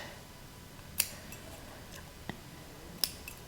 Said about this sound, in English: And then I just always cut off the excess thread.